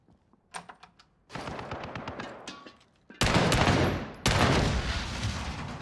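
Bursts of automatic gunfire from an online shooter game, starting with a few sparse shots and then breaking into loud sustained rapid fire in two long strings near the end.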